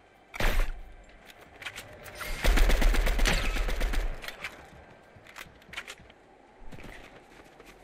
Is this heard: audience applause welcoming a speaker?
no